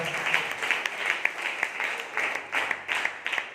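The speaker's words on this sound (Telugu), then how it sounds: "చప్పట్లు కూడా దేవుడికి చూపిస్తారా?" A church congregation at a fasting prayer service claps in a steady rhythm, sharp clapping at a regular beat that continues throughout.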